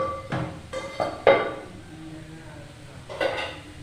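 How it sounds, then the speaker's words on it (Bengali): A clay lid lifted off a pan on a gas stove where chitoi pitha rice cakes are cooking: a few light clinks and scrapes, then one sharper knock, with a final clatter a couple of seconds later. "এবার দেখব ঢাকনাটা খুলে।"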